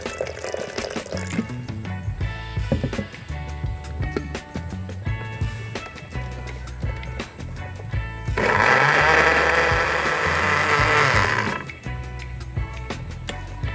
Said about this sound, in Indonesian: Ini akan kita blender.